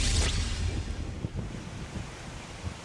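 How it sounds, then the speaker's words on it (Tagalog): Strong typhoon wind from Super Typhoon Nando roars steadily at Pari, Cagayan, with gusting rushes that sound like crashing surf, constant and loud throughout with no voices. "wala pa ring tigil ang malakas na hangin at ulang dala nitong super typhoon Nando"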